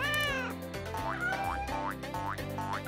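Kitten meowing in a children's nursery, a quick run of high, rising mews repeated several times in close succession, near and clear.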